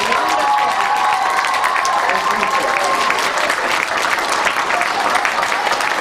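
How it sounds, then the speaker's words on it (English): An auditorium audience at a book talk claps steadily, dense sustained applause filling the hall at close range with no voices over it. "Let's give another round of applause to these two gentlemen."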